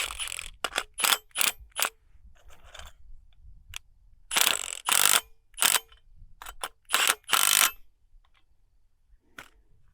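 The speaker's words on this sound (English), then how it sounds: "Then I can slide it in the slot and retighten them." Close metallic clicks, clunks and scraping as bolts on an adjustable rimfire spinner target are loosened, the plate slid along its slot, and the bolts retightened, in irregular bursts separated by quiet gaps.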